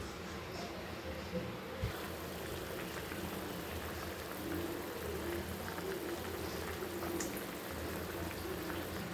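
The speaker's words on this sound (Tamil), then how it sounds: "நல்லா பச்சை வடை போகிற அளவுக்கு நல்லா கொதிக்கணுமா." Steady bubbling and simmering of a thick intestine curry in a pot, a constant low gurgle with occasional pops, close by and uninterrupted.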